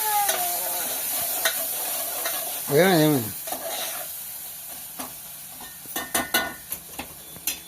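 Seed curry stirred in a pan on a home stove, with a soft sizzle and scraping strokes, a short burst of bird calls in the middle, and sharper clatters of the spoon against the pan toward the end.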